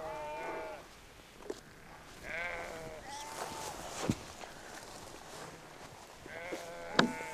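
Sheep bleat several times at moderate distance in a quiet, open setting where yaks are also kept, the wavering calls separated by pauses, with a few faint knocks and brief voices in between.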